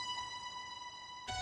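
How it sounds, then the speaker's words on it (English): A cymbal pluck synth for a melodic drum and bass track rings as a sustained metallic tone with shimmering upper harmonics, joined by a brighter struck layer near the end, alone without voices. "Then the cymbal pluck."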